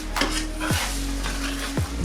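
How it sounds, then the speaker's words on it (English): A spoon stirs cream into a cooked roux in a pan, giving a close, steady sizzle with a few distinct scraping strokes against the metal and a low hum underneath. "And then we're gonna give that a mix"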